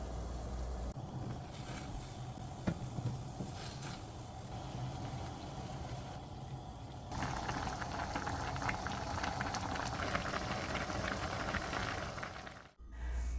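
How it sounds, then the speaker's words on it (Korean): Water seasoned with ramen soup base, with snow crab in the pot, coming to a boil: a soft, continuous bubbling rumble that grows a little fuller partway through, then cuts off abruptly. "물이 끓으면 면을 넣어요."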